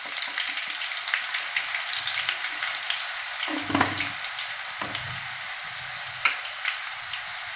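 Garlic, curry leaves and asafoetida sizzle steadily in hot oil, a dense close hiss with faint spoon clicks against the pan, no voices.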